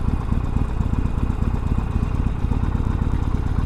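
A rubber-mounted motorcycle engine drones steadily and close throughout a short stretch of riding on Guam, with a continuous vibrating mechanical rumble and no talking.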